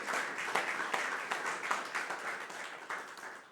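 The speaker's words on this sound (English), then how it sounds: "I would appreciate your giving the executive team a round of applause." An audience at a company annual general meeting claps for the executive team, a moderate and steady round of applause heard from within the room.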